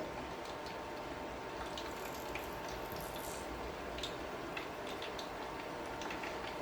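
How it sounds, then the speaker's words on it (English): Beer-battered food frying in hot oil, a steady dense crackle and pop with fine bubbling and sharp ticks, continuous and fairly faint throughout with no talking. "It's popping and cracking, and it's bubbling around it."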